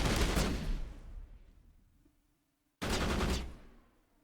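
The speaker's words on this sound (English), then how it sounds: "They're just shooting at us from a distance." Distant enemy weapons fire during a Mass Effect firefight on Insanity difficulty: two rumbling volleys separated by a fading tail and a brief silence, no talk.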